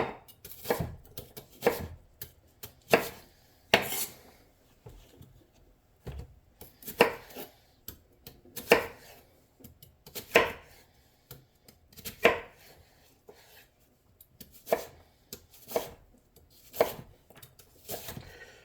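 Knife chopping onions on a cutting board for elk chili, a steady run of sharp, close thuds and clicks in uneven bursts, with no talking.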